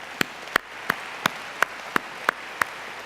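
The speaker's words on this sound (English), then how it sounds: "we should applaud the Peace Corps" Applause at a national service conference plenary honoring the Peace Corps, heard as about eight crisp, evenly spaced claps that stand out sharply over a quiet background, close and regular in rhythm.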